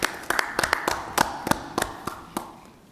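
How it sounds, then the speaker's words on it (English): Scattered, thin applause from a small audience at a Little Rock city agenda meeting, a handful of separate claps rising and then tapering off over a few seconds, moderately close and without talk. "Let's give Bruce a round of applause."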